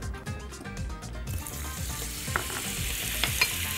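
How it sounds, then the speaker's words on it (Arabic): Butter added to olive oil in a hot pan, with stirring scrapes at first, then a broad, bright sizzle that swells and keeps going, punctuated by a few crisp spits near the end. "هحط عليها الزبدة"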